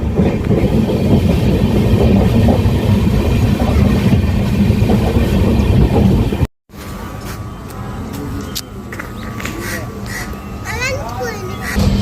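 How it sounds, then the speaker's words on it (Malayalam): The Mangala Lakshadeep Express rumbles loudly through a tunnel with a steady roar, cuts out briefly, then continues more quietly with rattling and faint children's voices. "ഇത് പിന്നെയും കുറച്ചൊരു ചെറിയ ടണലാണ്"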